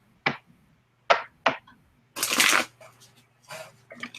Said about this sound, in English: So shuffle the deck.